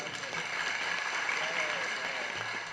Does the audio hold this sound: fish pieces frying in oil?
no